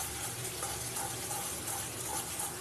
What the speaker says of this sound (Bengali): এখানে আমি জল দিয়ে দিয়েছি, গরম জল ছিল, গরম জলটাই দিয়ে দিলাম